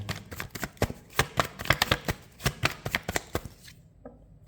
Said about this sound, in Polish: Ty rozdajesz karty.